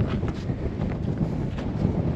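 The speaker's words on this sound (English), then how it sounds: "It's windy and hot." Steady desert wind at the Egyptian pyramids buffeting the microphone, a continuous low rumbling roar with gusty fluctuations throughout, no voices.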